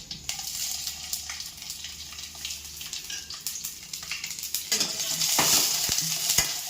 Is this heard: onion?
yes